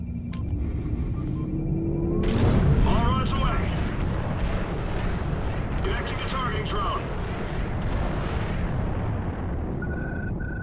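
Launch roar and heavy explosions in Call of Duty: Ghosts swell into a dense, continuous rumble that peaks in a loud blast partway through. Battle noise and radio chatter persist throughout.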